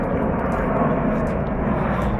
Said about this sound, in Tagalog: Ang hirap mag-vlog pagka may eroplano kasi naririnig mo yun